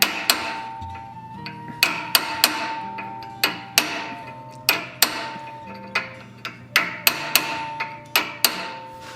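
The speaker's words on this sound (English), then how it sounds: "Now I'm going to come in with my flattening tool here to sculpt a little bit." Hammer blows on metal while forging a Viking head of Odin with a flattening tool, about fifteen sharp ringing strikes in an uneven rhythm, close and clear with short metallic decays.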